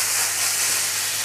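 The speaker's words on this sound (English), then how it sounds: "You can hear the sizzling." A steady, loud hiss of pork tenderloin searing in a hot pan, continuous and close, with no voices.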